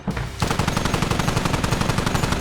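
Rapid, continuous machine gun fire bursts in a steady rattling rhythm after a brief lull, loud and sustained, with a game-like sound quality.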